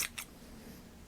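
Scissors snip through a knitted steek in two quick, crisp cuts close together, followed by quiet room tone with no talking.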